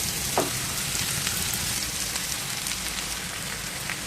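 Sliced carrots are tipped into hot oil with green chilies, onion and spices, making a continuous, dense crackling sizzle with rain-like spatter that runs steadily from start to end, close by and moderately loud, with no one speaking.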